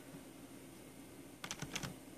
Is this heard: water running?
no